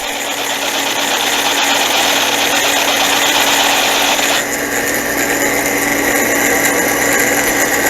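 A Frankford Arsenal case trimmer cutting brass cartridge cases, a loud continuous motor whine with grinding texture, running close and steady throughout with a slight change in tone partway through.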